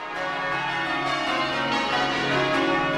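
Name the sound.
church bells ringing from the tower, stereo microphone feed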